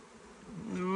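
Honeybees buzz during a spring hive inspection, a close, rising drone swelling louder toward the end of the short moment, with the insects slightly agitated.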